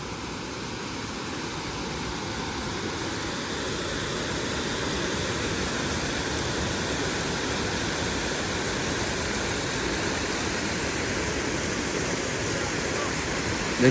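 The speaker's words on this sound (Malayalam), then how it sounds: "ലേക്കിൽ നിന്നുള്ള വെള്ളം ഇങ്ങനെ ഡാമിൻ്റെ രൂപത്തിൽ ഇങ്ങനെ ഒഴുകി വരുന്നു" Lake water pours steadily over a check dam at Hirekolale Lake near Chikmagalur, a loud, continuous broadband rush with no break, close by and unaccompanied by talk.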